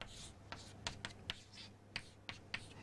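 Chalk or a pen writing by hand on a board during a fluid mechanics lesson, a string of faint, sharp taps and short strokes spaced irregularly over a quiet room.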